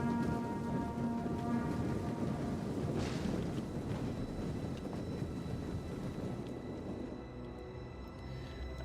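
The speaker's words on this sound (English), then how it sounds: "Can't do flammable rounds because they decided to attack during the rain." Steady rain hisses throughout a Total War: Rome II battle, a dense continuous wash with a low rumble and faint distant tones, fairly even in level and easing slightly toward the end, with no talking.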